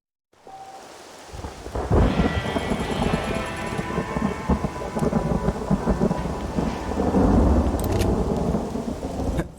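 Thunderstorm in the Red Dead Redemption video game: heavy rain falling steadily while rolling thunder rumbles and builds, loud and continuous, with no voices.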